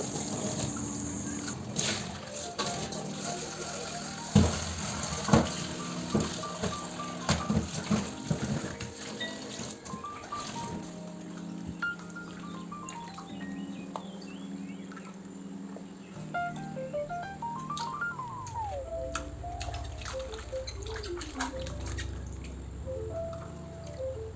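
Fish rinsed under running tap water two or three times, with trickling and dripping water, clinks of a pot or dish, and fluctuating splashes throughout.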